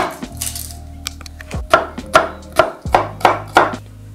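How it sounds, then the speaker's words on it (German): Garlic chopped finely with a knife on a cutting board for potato salad: about seven sharp, close knife strikes in a steady rhythm, after a few lighter taps, with no talking. "Den Knoblauch am besten kurz andrücken und dann genauso klein schneiden wie die Zwiebel."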